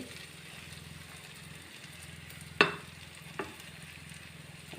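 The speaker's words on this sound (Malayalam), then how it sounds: "ആ ഉള്ളിയും പുളിയിൽ നല്ലോണം മെൽട്ടായി നല്ല ഒരു ബ്രൗൺ കളറിലേക്കാവട്ടത്" Onion fries in tamarind in a pan, giving a steady low sizzle with a sharp utensil clack followed by a smaller knock.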